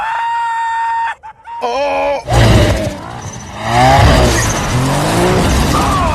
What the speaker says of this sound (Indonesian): Saat mereka akan melewati jembatan tersebut dengan kecepatan tinggi, mereka memacu mobilnya